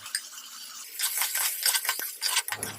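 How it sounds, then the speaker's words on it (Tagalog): Sardines being stirred with chayote, garlic and onion in a pan, a scraping, clattering utensil sound with a few sharp knocks, close and moderately loud, without talk. "Haluin lang natin."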